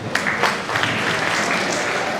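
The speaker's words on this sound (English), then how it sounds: "Clap for him." Audience in a seminar room bursts into steady applause, a dense wash of clapping hands that holds at a fairly even level from start to finish.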